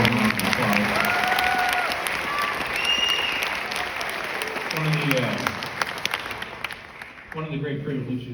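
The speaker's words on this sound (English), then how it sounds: "let's give a round of applause." An audience claps for the seniors at a high school jazz concert, with sustained, dense applause and some cheers, brief voices within it, before tapering off near the end.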